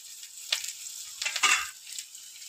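Bay leaf, five-spice seeds, onion, garlic and green chilli hit hot oil together, a short hissing sizzle with a few sharp crackling bursts, close and fairly quiet.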